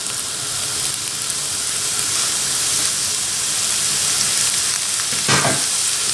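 Thinly sliced leek fries in sesame oil, giving a loud, steady sizzling hiss, close and continuous, with one brief burst of stirring near the end.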